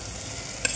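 Tomato puree and garlic paste sautéing in a pan for chole masala, a brief steady sizzle with a single sharp scrape of a spoon near the end.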